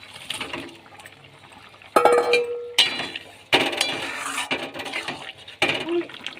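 Fried banana-flower fritters go one after another into boiling curry broth, giving four or five distinct splashes and pot clinks over a low bubbling simmer.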